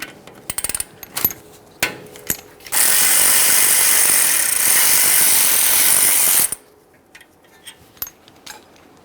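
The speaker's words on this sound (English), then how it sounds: "We'll continue on with our 13mm to remove the upper mounting bolts." Rear brake work on a 2015-2020 Ford F-150: a few sharp ratchet clicks, then a loud, continuous whirring burst of about four seconds as the 13mm caliper mounting bolts spin out, followed by light metallic taps.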